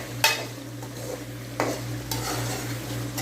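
A spoon scrapes through coarsely pounded spices roasting in a pan for kadai chicken, three or four distinct stirring strokes over a soft, steady sizzle with a low hum beneath.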